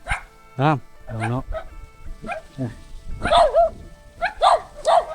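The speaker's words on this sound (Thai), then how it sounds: "หมาบ่เลยเต็มไปด้วยหมาเห่า" Several dogs bark and yip in a rural mountain village in Laos, their sharp barks rising intermittently over someone talking nearby.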